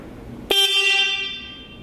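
A car horn wired to a switch blasts once, a loud sudden honk with a bright harmonic tone that rings on and slowly fades.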